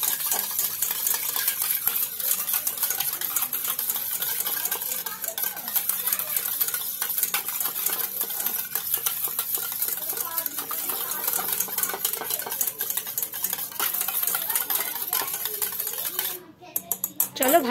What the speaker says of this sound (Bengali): এবার দিয়ে এটাকে ভালোভাবে নেড়ে নেব।